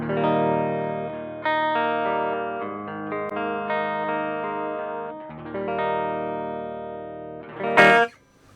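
Guitar chords ring through a Mozztronics CS-1 cabinet simulator with the tube driver off, sustained and fairly clean, changing every second or so, and ending in a sharp strum before going quiet.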